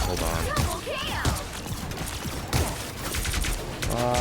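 Rockets fire in the Marvel Rivals video game as a rapid, dense volley of explosive bursts and crackling impacts. The barrage is loud and continuous over about four seconds, with game effects mixed in and a voice faintly underneath.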